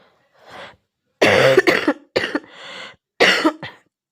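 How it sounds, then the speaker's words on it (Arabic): A series of harsh, raspy coughs close to the mic, one quiet cough followed by several strong bursts in quick clusters, with no talking. "عندي كحة عاملة لي شرخ في زوري"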